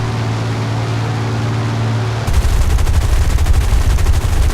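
Rapid aircraft machine-gun bursts from a P-36A fighter in War Thunder rattle loud and close, a dense continuous stream of shots that kicks in halfway through over a steady engine drone.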